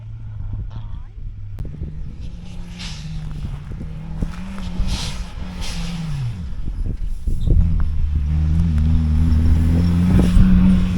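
A Mitsubishi Galant VR4 rally car engine revs and accelerates steadily on a khanacross track, pitch rising and falling through gear changes, growing louder toward the end with a steady roar.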